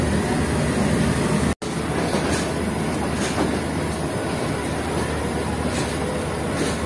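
The 5UP Green Line Express stands at a station platform, giving off a loud, steady broadband rumble that cuts out for a brief moment partway through before resuming, with no voices.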